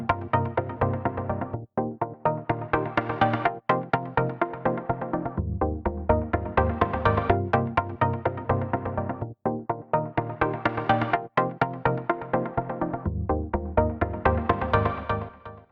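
Music runs through Logic Pro reverb and tape delay spatial effects: a dense, pulsing pad-like mix with rhythmic accents and brief dips, moderately loud and steady with no talking throughout.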